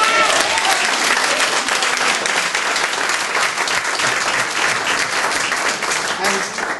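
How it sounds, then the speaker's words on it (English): A church congregation claps together as an offering of praise during a sermon, a loud, sustained wash of many hands filling the sanctuary and slowly easing toward the end. "We're free to give the Lord a clap offering in the house."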